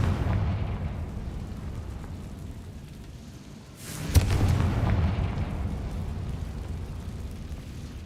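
Confringo explosive spell detonates in a wizarding video game, a single sharp blast mid-clip swelling into a rumbling eruption over steady low background noise.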